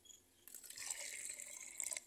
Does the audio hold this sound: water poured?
yes